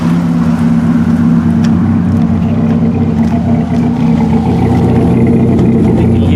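Right at the tailpipe of a 2002 GMC Sonoma with a misfiring 2.2 engine, loud exhaust chugs along with an irregular pulsing beat and faint ticks scattered through the idle.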